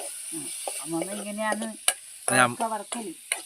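A spoon stirs an ivy gourd stir-fry in a pan over a fire in a village kitchen, giving soft scraping and sizzling under people talking nearby, with one sharp clack.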